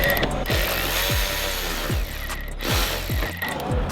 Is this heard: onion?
no